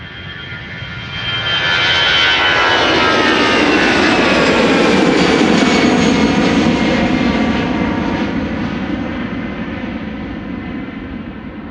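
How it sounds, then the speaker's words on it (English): Aer Lingus Airbus A320 jet departing Amsterdam Schiphol on a sunny morning, its engine roar swelling to a loud sustained rumble and slowly fading as it climbs away. "This is the Aer Lingus Retro Flight 603 to Dublin, Ireland. An A320"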